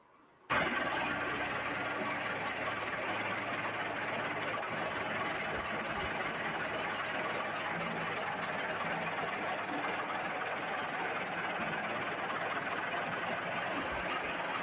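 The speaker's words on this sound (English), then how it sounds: "Morton dumper built around a Massey Ferguson tractor." A Morton dumper built on a Massey Ferguson tractor runs inside a mine, its engine giving a steady, close, loud rumble that starts abruptly and holds without a break, with no talking.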